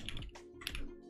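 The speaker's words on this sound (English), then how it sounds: "I gotta get better at typing." Rapid typing on a custom-built computer keyboard, a close, quiet flurry of clacky keystrokes in uneven bursts, no talk.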